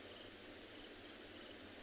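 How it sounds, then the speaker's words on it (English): Frogs call at night from nearby rain-filled puddles, forming a dense, steady, high-pitched chorus that sounds like a continuous wash of trilling, with no voices. "deafened by the sounds of the frogs in the nearby puddles."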